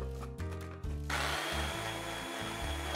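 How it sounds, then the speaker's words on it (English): A kitchen blender whirs as it chops torn leaves soaked in rubbing alcohol, its motor starting abruptly and running with a loud, steady grinding hum and slight pulsing, close to the microphone with no talking. "Please pour rubbing alcohol on the leaves and blend."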